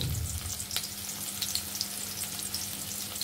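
Chopped onions frying in hot oil for a fish and aubergine curry, a steady close sizzle with crackling bursts and a faint low hum underneath, no voices.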